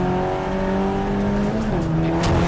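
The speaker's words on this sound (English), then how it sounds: "Thomas Kirkland Peugeot 206 GTI." Peugeot 206 and 207 GTI touring race cars battle on track at Silverstone, engines droning loudly and steadily with shifting pitch as they pass close by.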